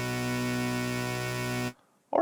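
A synthesizer patch layering a quad saw oscillator an octave up holds one sustained, buzzy, harmonically rich chord for under two seconds, then cuts off abruptly, leaving near silence and a brief faint sound at the end.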